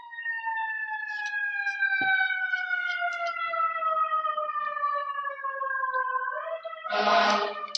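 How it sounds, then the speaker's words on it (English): New York City fire truck siren passing outside, a loud, long wailing tone that slowly falls in pitch as it goes by, ending in a burst of harsh honking noise. "to let the New York City fire trucks go by."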